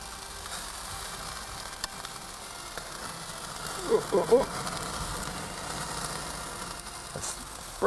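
Burgers sizzle on a barbecue grill at a 4th of July cookout, a steady hissing crackle with a few louder pops bunched near the middle.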